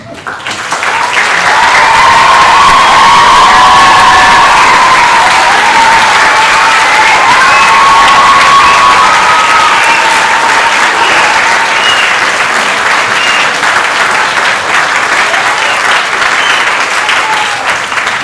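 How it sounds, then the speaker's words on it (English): An audience at the closing concert of an orchestral festival breaks into loud, sustained applause that swells quickly and holds steady, with scattered whistles or cheers riding over the dense clapping. "would you like to give them a huge round of applause?"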